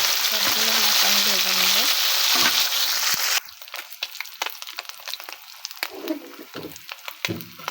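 Mixed sea fish fries in oil over a low flame with a loud, dense sizzle that suddenly drops to a quieter, popping crackle with scattered clatters.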